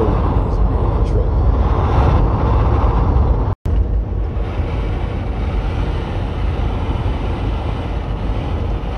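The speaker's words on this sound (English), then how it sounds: "Truck." A truck driving past on a snowy road, heard as a loud, continuous roar of engine and tire noise from close by that fills the stretch, with a brief dropout partway through.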